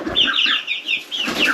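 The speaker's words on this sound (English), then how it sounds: "Scaring the ducks." Farm ducks on a homestead call in a steady run of loud, nasal quacks close by, with a brief pause in the middle and no talking.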